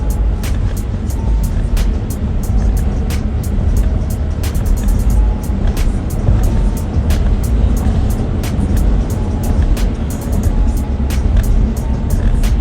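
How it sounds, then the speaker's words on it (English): Steady engine and road noise from inside a moving rental Audi car, a constant broadband rumble with faint regular ticking, heard alone without talk. "I'm driving an Audi right now, a rental."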